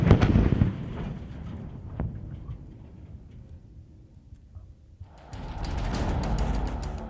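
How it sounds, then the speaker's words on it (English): Four GBU-24 bombs dropped together by German Tornado jets during an air-to-ground exercise in Nevada hit with a sharp, heavy blast that rolls away into a fading rumble, followed by a rising distant roar. "We dropped 4 GBU-24s all at the same time."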